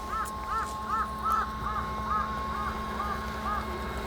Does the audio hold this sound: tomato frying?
no